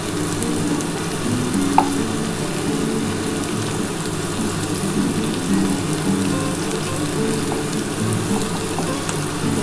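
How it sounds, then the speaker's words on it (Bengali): Small prawns rubbed with salt and turmeric fry in a pan, making a steady, even sizzle that resembles rain on a surface. One brief clink stands out near the start, at moderate volume. "চিংড়ি মাছটা এই যে মাঝখানে করে একটু ভেজে নিতে হবে।"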